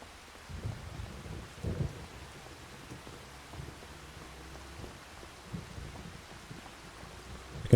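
Steady rain with low rumbling thunder in the Farming Simulator video game, a continuous wash of falling water with soft rolling booms throughout, no voices.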